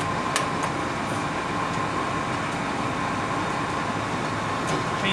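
A metal lathe spinning at about 650 RPM with the power feed engaged gives off a steady, close mechanical hum and whir with a faint constant whine, unbroken for the whole stretch.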